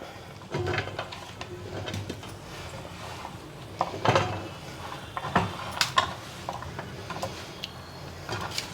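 Raw mango chutney ingredients are pounded in a stone mortar, giving irregular dull thuds and scraping knocks that come close and fairly loud, with no talking.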